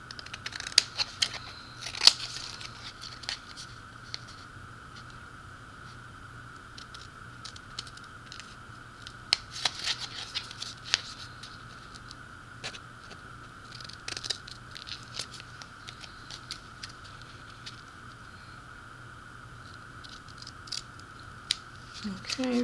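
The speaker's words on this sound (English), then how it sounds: "and then I'm going to cut this excess off." Scissors snipping excess paper off a handmade gift tag, with scattered quiet cuts and paper rustles spread across a long stretch over a steady low background hum.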